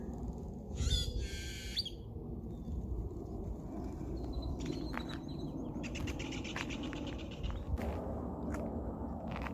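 Birds chirp and trill in short bursts at a desert bird viewing preserve in Henderson, some near and some farther off, over a steady outdoor background with occasional footsteps.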